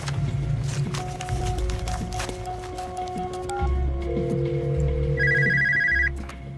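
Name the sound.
telephone ringing during a phone call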